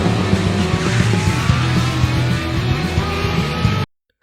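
A motorcycle speeds off during a chase scene in the film Young GTO, a loud continuous engine roar with tire noise and rushing motion, cutting abruptly to silence at the end.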